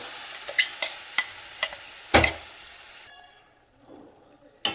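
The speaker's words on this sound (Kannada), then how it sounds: "ಆಮೇಲೆ ನಾವು ಮಾಡಿರ್ತಕ್ಕಂಥ ಚಟ್ನಿಯನ್ನು ಸೇರಿಸೋಣ. ಮೀಡಿಯಂ ಫ್ಲೇಮಲ್ಲಿ ಫ್ರೈ ಮಾಡ್ಕೋಬೇಕು." Onion chutney frying in a pan on a medium flame, a series of sharp scraping stirs and clinks over a low sizzle, dropping to near quiet before one last scrape, no voices.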